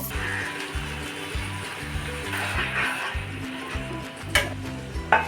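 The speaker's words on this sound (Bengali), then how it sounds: "এরপর আমি ঢাকাটা তুলে আবার মাংসটাকে ভালো করে নাড়িয়ে চাড়িয়ে কষাতে থাকবো।" Chicken with kachur loti (taro stolons) stirred and fried in a pan: a steady sizzle with repeated scraping stirs, rhythmic low thumps of the spatula, and a couple of sharper clinks of utensil against the pan, up close and without talk.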